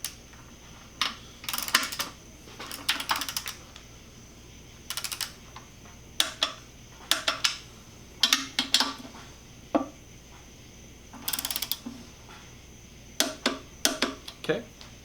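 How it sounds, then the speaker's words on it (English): Ratchet wrench clicking in short bursts as the oil pickup is bolted down to 21 foot-pounds on a HEMI engine going into an abandoned Dodge Challenger, with clinks of metal parts and tools between the bursts, close and fairly quiet. "Now we need to bolt down our pickup to 21 foot-pounds."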